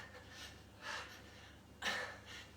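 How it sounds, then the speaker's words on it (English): Someone breathes hard during an exercise session, a quiet sequence of two or three distinct sharp breaths with soft background hiss between them. "You can hear my breathing's up"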